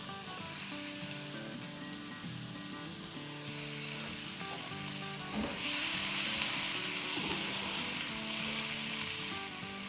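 Spring onions, whites and greens, tossed into veg Hakka chow mein noodles in a hot pan; a constant loud sizzle swells brighter midway as the pan is stirred, with faint metallic scrapes underneath.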